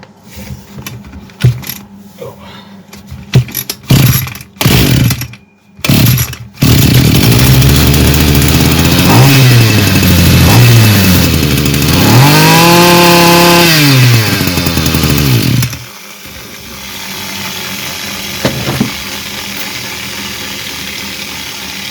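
Al-Ko BC 223 B petrol brush cutter with a faulty carburetor, first sputtering in short uneven bursts, then throttled into a loud strained roar that wavers and bogs for several seconds before dropping back to a rough idle.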